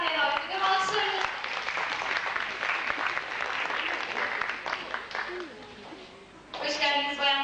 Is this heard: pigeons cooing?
no